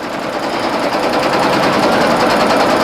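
Single-needle embroidery machine, an older discontinued model, stitching out an in-the-hoop mug rug with round applique: a steady, loud, fast mechanical whir and rattle running continuously with no talk.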